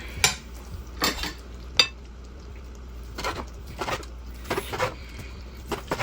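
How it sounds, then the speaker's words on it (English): A knife cuts through juicy food on a board while making pasta, with several sharp clicks and taps against the surface spread across the moment. There are scattered quieter scrapes, close and fairly faint, and no talking. "I can just feel the knife sliding through"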